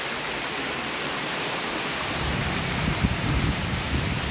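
Heavy rain pouring during Cyclone Remal in Sylhet, a dense steady hiss of rainfall on surfaces that grows louder and heavier midway, with low rumbling beneath and no voices.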